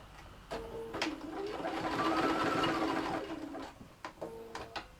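A sewing machine stitches a fabric Japanese omiyage bag, running in a single steady whirring burst that speeds up and slows down, framed by a few short clicks and handling noises before and after.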